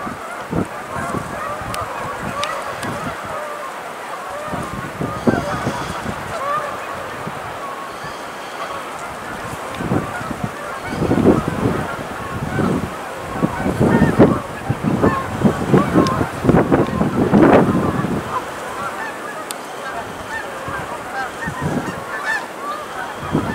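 A flock of geese honks as the birds come in to land by the edge of an island, with many overlapping calls at middle distance that swell in the middle stretch over a faint outdoor background.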